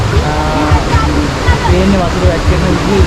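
Bopath Ella waterfall in Sri Lanka pours as a steady broadband roar of falling water, loud and continuous, with faint low voices mixed beneath it.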